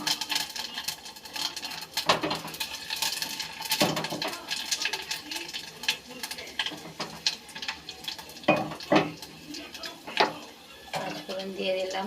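Panch phoron spices temper in hot oil inside a pressure cooker, giving a crackling sizzle with clicks and spatters, along with stirring clatter. A voice talks throughout.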